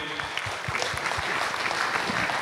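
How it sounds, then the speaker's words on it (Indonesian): Audience applause at an Indonesian public forum in Jogja, steady dense clapping from a crowd filling the whole stretch at moderate level. "Tepuk tangan Bapak Ibu."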